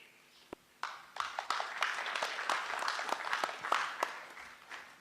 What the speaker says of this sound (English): Let us give a better applause to Dig In Vision Virtual Training Center.